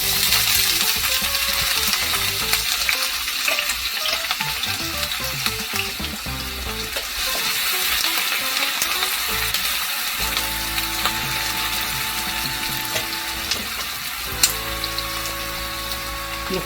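Onion frying in hot red palm oil for Nigerian egusi soup, a loud, busy sizzle with frequent crackles and pops, steady for the whole stretch, with occasional clinks of a utensil against the pot and no talking.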